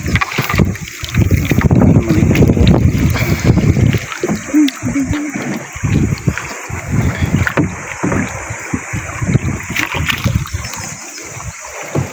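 Steady wind buffets the microphone outdoors, with splashing water and a boat's hull knocking nearby, loud and continuous throughout.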